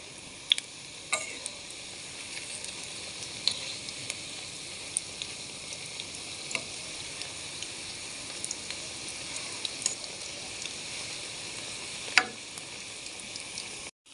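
Flipped potato and egg fritters keep frying in oil in a wok, a continuous close sizzle punctuated by a few sharp ticks and spatula clinks, with no voices.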